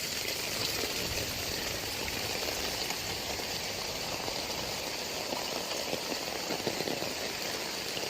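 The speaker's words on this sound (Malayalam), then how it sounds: "പൈപ്പ് തുറന്നു വിട്ടല്ല കേട്ടോ, ഇത് മഴ തന്നെയാണ്." Heavy morning rain in Kozhikode, Kerala, in May, with rainwater running along a channel, makes a continuous, even hiss of downpour and flowing water with no pauses or voices.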